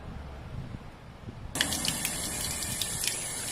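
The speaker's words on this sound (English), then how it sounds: "we get a very large pressure coming out that just allows the water to completely just shoot across" Water jetting out under high pressure starts abruptly partway through, a steady loud hiss and gush that continues to the end after a quiet start.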